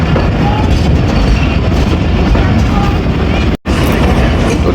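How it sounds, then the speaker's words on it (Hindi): 38 Down Baba Fareed Express train approaching Basirpur railway station, heard as a loud, steady rumble of rolling wagons with a brief dropout near the end. "बसीरपुर रेलवे स्टेशन पे अप्रोच बना रही है 38 डाउन बाबा फरीद एक्सप्रेस"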